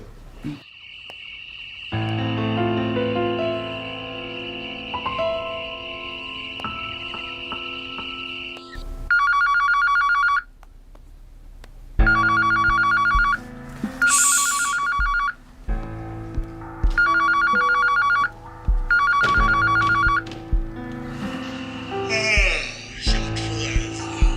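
A telephone rings repeatedly in loud bursts separated by short pauses, with musical tones in the background before and between the rings.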